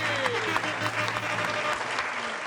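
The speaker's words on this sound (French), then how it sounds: "Donc, on dit son nom, on doit applaudir." An audience applauds at a show honouring an African Muay Thai champion, dense continuous clapping with a low hum and what sounds like music underneath.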